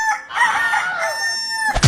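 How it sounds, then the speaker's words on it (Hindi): A cartoon rooster gives a single loud, close crow that is drawn out for nearly two seconds. It ends in a short thump. "मुर्गा फिर भी बांग दे रहा था"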